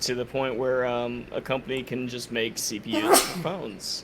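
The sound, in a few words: sneeze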